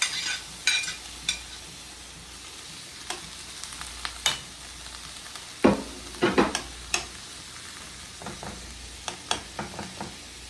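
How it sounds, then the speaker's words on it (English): Sausage and broccoli, with onions and peppers just added, sizzle in a frying pan under a steady hiss, punctuated by sharp scrapes and clicks of a utensil stirring through the food. "So now that my sausage has got a little bit brown on it, especially some of my broccoli, I'm gonna now add in my onions and my peppers."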